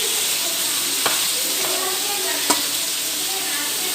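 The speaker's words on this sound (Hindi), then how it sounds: "इसका कलर चेंज होने तक इसको भूनेंगे थोड़ा, ताकि ये सख्त हो जाए थोड़ी" Liver (kaleji) fries in a pan with a steady, close sizzling hiss. It is stirred now and then, and a couple of sharp spoon taps stand out.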